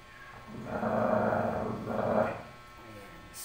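Dogs in a home growl and snarl at each other in two low, rumbling bursts, each lasting about a second, close by and moderately loud, with faint background hum between them.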